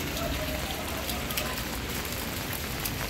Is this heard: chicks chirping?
no